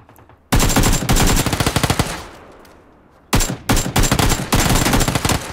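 Rapid automatic gunfire in PUBG on the snowy Vikendi map, two loud close bursts of sustained shots separated by a short lull, then more short bursts, with no talk.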